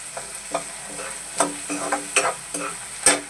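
Onions frying in a pan for Indian-style masala macaroni, cooked until golden brown: a steady soft sizzle broken by a series of spoon-stirring scrapes at irregular intervals, close by, with no voices.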